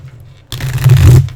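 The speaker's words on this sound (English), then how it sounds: "now I have to just shuffle these just because you can hear it" Tarot card deck being shuffled close up, a short burst of riffling and fluttering cards after a brief quiet moment.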